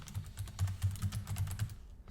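Quick, irregular keystrokes on a computer keyboard while entering data in an Excel spreadsheet, about a dozen clicks in two seconds, close and fairly soft, with no voices.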